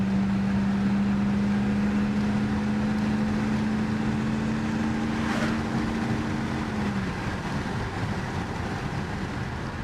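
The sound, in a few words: Mercedes E500 Renntech car engine running smoothly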